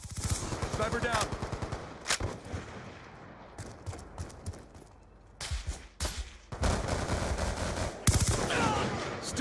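Gunfire in the shooter video game Black Ops 2, with rapid automatic bursts and scattered single shots, some close and loud, others farther off, over a busy game background.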